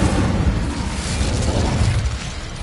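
Incendio fire spell cast in the video game Hogwarts Legacy, a loud continuous roaring whoosh of flame filling the whole moment without pause, close and dense, no voices.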